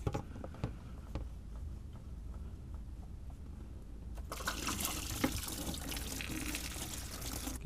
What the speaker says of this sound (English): I'll pull this lower radiator hose and finish draining the last bits of water out of here